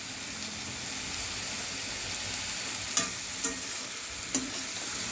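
Spice mix being stirred into cabbage curry frying in a pan, a steady close sizzle and hiss throughout, with three brief scraping knocks of the spoon near the end.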